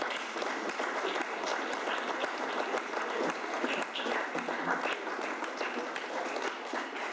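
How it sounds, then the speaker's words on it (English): A round of applause for a kitchen team, many hands clapping in a dense, even patter that carries on steadily, moderately distant. "Can we please have a round of applause for our one?"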